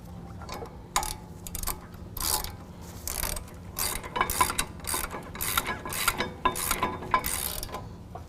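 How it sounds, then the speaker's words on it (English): A ratchet with a 21mm socket tightens brake caliper bolts on a truck fitted with a Power Stop Z36 Truck and Tow brake kit, giving repeated close clicking bursts in uneven rhythm. "And then we can use our 21mm to tighten those up to factory spec."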